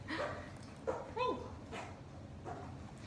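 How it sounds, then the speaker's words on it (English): A pet dog indoors gives a few short yips and whimpering whines, spaced irregularly and moderately close, with a person's voice mixed in among the sounds. "It's one of my dogs."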